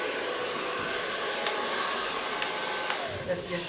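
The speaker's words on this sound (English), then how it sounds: "Zo van blow drying. Dat staat er nog steeds aan." A hair dryer blows steadily on hair during a salon color and nape-shave cut, a loud, even whoosh that runs unbroken for the whole stretch.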